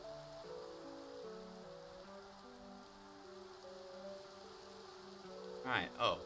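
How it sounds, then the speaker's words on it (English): Steady rain pattering down in the game Minecraft, a soft continuous hiss that runs under in-game background music, with a brief louder burst near the end. "Oh, second day, it's raining."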